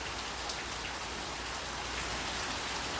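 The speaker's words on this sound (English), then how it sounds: "The rain in the background, which I think the rain's getting pretty loud." Loud rain pours steadily outside, a dense, continuous hiss of drops striking surfaces with occasional sharper patters, heard alone without talk.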